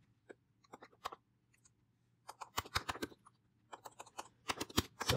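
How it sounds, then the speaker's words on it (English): Typing on a computer keyboard comes in quiet, scattered bursts of close clicks with short pauses between them, growing busier toward the end, with no voices. "Sorry, difficulty typing."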